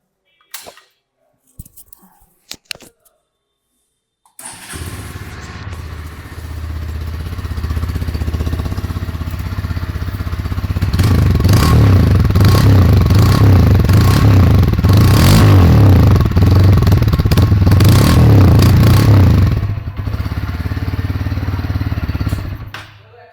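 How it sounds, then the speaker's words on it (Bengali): A Hero Extreme 160R 4V motorcycle starts and idles with a steady exhaust burble, rising to a louder rough rumble during revving before settling back, heard alone and close. "আমি প্রথমে আপনাকে এক্সস্টের সাউন্ডটা শোনাচ্ছি তো আমি প্রথমে অন করছি"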